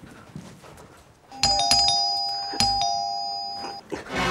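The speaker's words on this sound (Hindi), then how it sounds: "दरवाजे की घंटी नहीं सुनाई दे रही है?" A doorbell rings twice in quick succession, bright chiming tones ringing out and fading, with quiet background noise before it.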